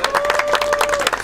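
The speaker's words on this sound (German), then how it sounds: "Jubel einblenden." A short burst of crowd cheering and clapping, dropped in as a sound effect during a juggling act at the 2024 Baldennau medieval fair, rises briefly and fades within about a second.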